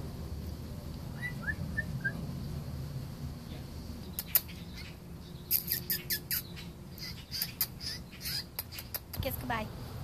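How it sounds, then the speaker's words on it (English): A fallen baby blue jay being hand-fed gives rapid bursts of thin, high chirps, faint at first and then clustered and more insistent, over a low background murmur of household noise. "feeding a baby bird that fell out of the tree"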